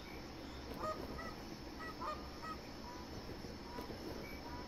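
Magpie geese honking in the hunting game theHunter Classic, a steady string of calls from a small flock flying over, moderately loud above a constant outdoor ambience.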